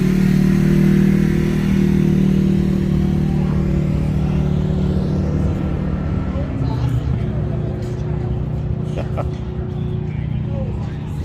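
Motorcycles and other vehicles rumble past on a street in Custer, South Dakota, days before the Sturgis rally, with a loud, low engine drone that fades and shifts as they pass, while people talk over it.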